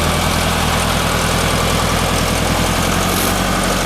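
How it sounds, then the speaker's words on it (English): A 1990 Case 410C backhoe engine driving across a field, a loud, steady diesel drone with constant low rumble and vibration, close to the machine and without talk. "now we're going to drive it around the field for you"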